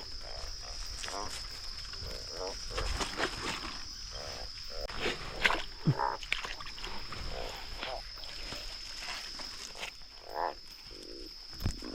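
Frogs croak in a wet field after fresh rain, irregular low croaks and calls scattered over a steady high insect-like whine, with people moving and talking quietly nearby.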